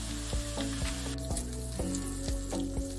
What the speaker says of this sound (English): We're gonna pan fry them in butter.